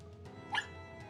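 A dog in the video game Tiny Bunny gives one short, soft whimpering yelp, brief and faint against a quiet background.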